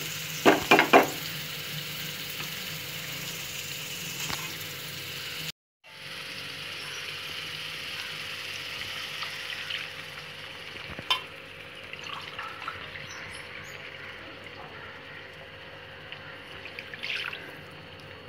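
Water pours into a hot pan of rava kichadi with a steady sizzle and bubbling, followed by continued frying hiss and occasional small clinks.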